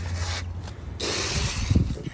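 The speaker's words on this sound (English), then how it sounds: "as this cuts into the concrete, this pulls the dust through the bit, and the vacuum cleaner takes it out" A drill bit cuts into concrete while a vacuum pulls the dust out through the bit, giving a harsh, close grinding roar with a steady suction hiss that pauses briefly and then resumes.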